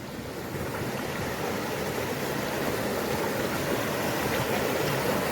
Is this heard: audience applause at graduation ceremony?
no